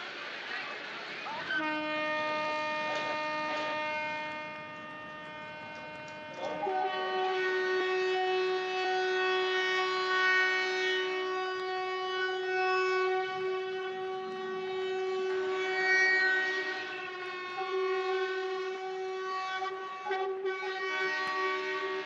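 An Amrit Bharat passenger train runs past with its horn blaring, long sustained horn blasts that swell and drop over the steady rumble of the rail cars, loud and close throughout.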